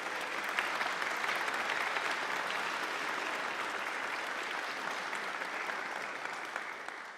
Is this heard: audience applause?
yes